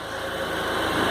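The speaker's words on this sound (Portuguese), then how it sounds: "Na marcha lenta aqui, excelente, não tem barulho nenhum." A Chery Cielo 1.6 16v engine, warmed up and running at idle, gives a steady, smooth low hum with an even rhythmic pulse, close and alone.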